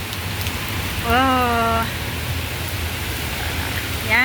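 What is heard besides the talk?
heavy rain pouring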